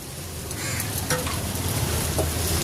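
Onions, green chillies and ginger-garlic paste sizzle steadily in a pan for a loitta (Bombay duck) fish curry, a close, continuous frying hiss with occasional stirring scrapes.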